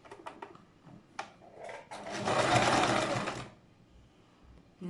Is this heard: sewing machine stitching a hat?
yes